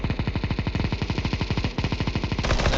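Negev machine gun fire in a Counter-Strike 2 match, a long, loud, unbroken stream of rapid evenly spaced shots close up, with no talk over it.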